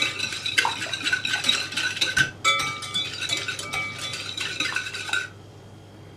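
A utensil stirs sugar and yeast in a bowl to dissolve them for soft poğaça dough, making steady rapid metallic clinking and scraping with a brief pause midway.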